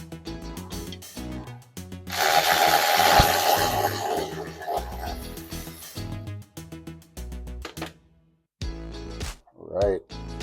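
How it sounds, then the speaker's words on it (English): A flathead screwdriver wedges and pries a brake pad out of a Toyota Tacoma caliper, giving a few seconds of loud, harsh metallic scraping and grinding up close, framed by shorter clanks and knocks before and after. "just taking a flathead and wedging it in, you can see the brake pad coming up"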